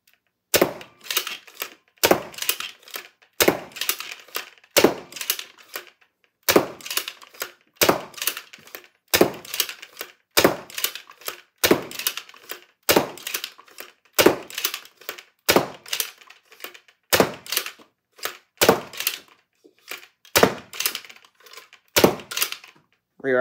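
A Charamile Designs Skewer T-pull dart blaster fires Dart Zone Max darts in a long series of sharp, loud cracks, each shot paired with a quick mechanical thunk of the pull stroke, repeating at a steady rhythm of roughly one per second.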